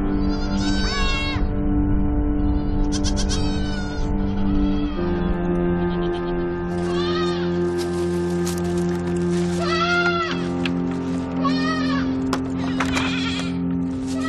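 Goats in Fuerteventura's countryside bleat repeatedly, several wavering cries from more than one animal, some close and loud, others further off, over a constant droning background.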